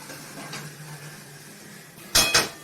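A plate comes out in a home kitchen with two sharp, close clinks near the end, after a quiet stretch of low background noise.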